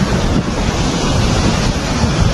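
A flash flood sends water rushing in a loud, continuous roar of churning torrent, dense and unbroken throughout, mixed with heavy wind-like buffeting and no voices.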